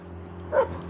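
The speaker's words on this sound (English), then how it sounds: "This is the dog of yesterday." A mixed-breed dog gives a single short yip or bark against a steady low indoor hum, brief and moderately close.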